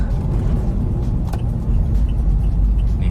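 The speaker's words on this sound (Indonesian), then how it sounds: "Suara V8 mantap banget sih guys." Mercedes-AMG V8 car with straight-pipe exhaust at a Friday night car meet, a steady loud low engine rumble close by, continuous through the short stretch.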